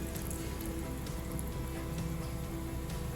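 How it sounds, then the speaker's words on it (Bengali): Lentil fritters (dal bora) frying in oil make a continuous close sizzle with fine spattering pops, like light rain, steady and unbroken with no talking. "এই বড়া কটা আমি একসাথে ভেজে নেব।"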